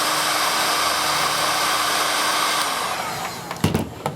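A heat gun blows steadily on paracord heat shrink, a loud continuous whoosh that eases near the end, with a few brief clicks and knocks as it winds down.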